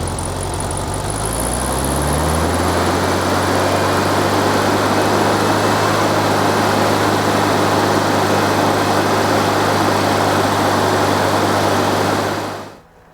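A home-built air-cooled VW Beetle engine held at about 3000 RPM, a loud, steady, close-up drone with a low hum that settles after the first two seconds and cuts off sharply near the end.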